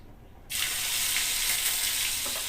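Finely chopped ginger and garlic drop into hot oil in a pan. After a quiet half second, a sudden loud, hissing sizzle bursts up and continues steadily and close, with faint crackles and no voices.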